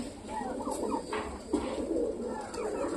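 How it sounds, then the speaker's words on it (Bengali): A flock of pet pigeons coos in a loft just before being let out to feed. The soft, throaty calls overlap continuously at close range, with faint background noise beneath. "তো এইবার আমি টোটালি সবকটা পায়রাকে ছেড়ে দেবো"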